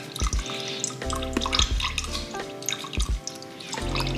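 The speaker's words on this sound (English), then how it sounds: "I'm dripping a little bit from the cap," Thick, milky rinseless car-wash liquid dripping from a loose bottle cap, small close drips and liquid patters recurring irregularly, with no speech.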